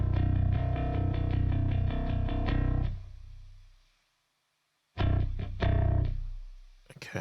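Heavily distorted tone from the Sonimus Satson British console emulator plugin pushed to high gain, loud and saturated for about three seconds, fading out, then several more distorted bursts after a second of silence.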